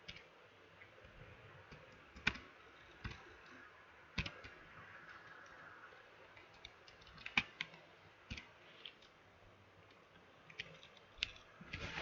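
Java code being typed on a computer keyboard, with quiet, irregular key clicks and a few sharper taps spread across the stretch, with no talking.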